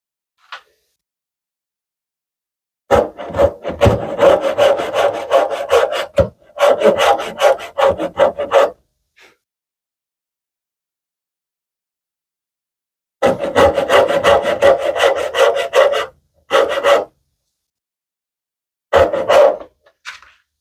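Hand saw cutting through wood in bursts of steady rasping back-and-forth strokes, with long pauses between sessions; close and loud, no talking.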